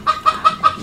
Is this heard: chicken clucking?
yes